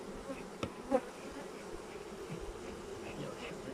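Honeybees buzzing at a beehive, including drones, a constant faint droning hum with a couple of brief louder passes close by, and no clear talk.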